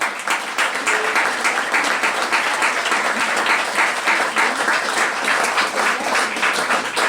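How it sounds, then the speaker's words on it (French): A live audience applauds a hotel club team at Les Karellis ski resort, a dense, steady wash of clapping hands that holds loud and unbroken throughout. "vous pouvez les applaudir très fort"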